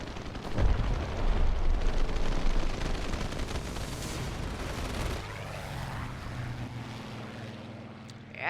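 Bomb explosions in the War Thunder air arcade battle game, a dense rumbling barrage of blasts and crackling gunfire that stays loud and heavy before easing into a lower droning roar.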